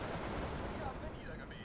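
Rifle and machine gun fire in the Steel Division 2 wartime strategy game, a dense, continuous crackle of gunfire that fills the whole short stretch with no clear gaps between shots.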